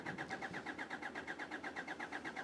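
Hyundai Santa Fe engine cranking over without starting, a faint, even, rhythmic chugging of the starter with regular pulses repeating several times a second throughout.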